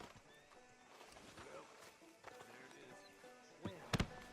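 Horse in Red Dead Redemption 2 whinnies through a busy game soundscape, with soft clip-clopping hooves, then a sharp loud snort or burst near the end.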